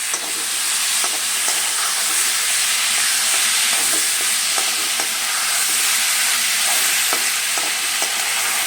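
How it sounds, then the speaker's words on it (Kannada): Chopped tomatoes sautéing in a hot pan, a continuous loud sizzle broken by regular scraping strokes of a spatula as they are stirred. "ಇದನ್ನು ಕೂಡ ಒಂದು 2 ನಿಮಿಷ ಚೆನ್ನಾಗಿ ಟೊಮೊಟೊ ಮೆತ್ತಗಾಗೋರು ಬಾಡಿಸ್ಕೊಳ್ಳೋಣ"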